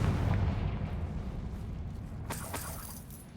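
A Confringo fire spell explodes in Hogwarts Legacy: a dense, booming low rumble rolls through the whole stretch, with a sharp crackling burst near the end as the blast fades out.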